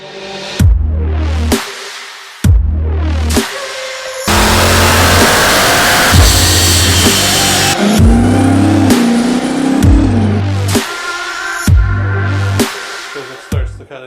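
A new Jeep Trackhawk revs on a dyno, its engine repeatedly climbing and dropping in loud bursts, with one long sustained high-rpm pull in the middle, close and dominant throughout.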